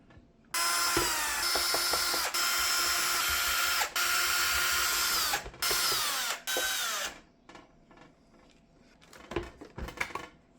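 A power screwdriver backs screws out of an Ecovacs Deebot 950 robot vacuum, several long whirring bursts close up, then faint clicks and rattles of screws and parts being handled.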